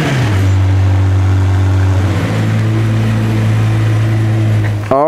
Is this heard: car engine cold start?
yes